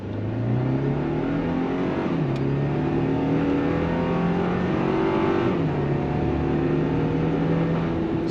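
A 2025 Toyota Tacoma SR5 with a turbocharged four-cylinder engine and an 8-speed automatic, accelerating at full throttle. The engine drone climbs in pitch, drops at each gear shift and climbs again, loud and steady from inside the cab.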